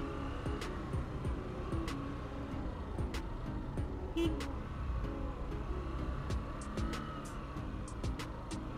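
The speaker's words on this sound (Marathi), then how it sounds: "बापरे माझ्या जाम ट्रॅफिक आहे." Heavy road traffic on a congested highway during a motorcycle ride from Mumbai to Trimbakeshwar, with a steady near rumble of car, bus and truck engines and brief horn toots, no talk.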